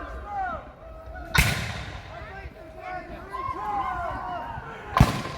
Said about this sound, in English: We're firing canister shot.